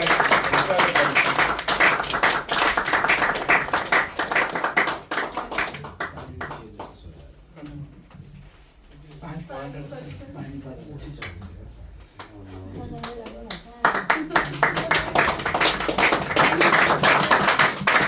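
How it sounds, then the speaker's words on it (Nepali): A congregation at a church gathering bursts into loud, dense clapping to welcome a speaker. The applause fades to quieter rustling, then swells again near the end as a voice speaks over it. "उहाँलाई हामी ताली बजाएर यो समय"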